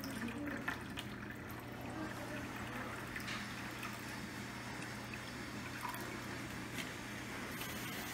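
Water pours steadily into a container beneath a constant low hum, with a few small splashes and drips.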